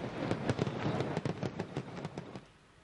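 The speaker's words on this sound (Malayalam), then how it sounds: "സാമ്പിൾ വെടിക്കെട്ട് TCV തത്സമയം സംപ്രേഷണം ചെയ്തു." A sample fireworks display at Thrissur Pooram in Kerala sets off a rapid volley of sharp bangs and crackles from a distance. The bursts fade away toward the end.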